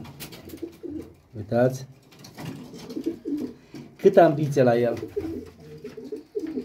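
Soft cooing of a hand-held short-distance racing pigeon, low throaty coos sitting close to the microphone and interleaved with nearby talking.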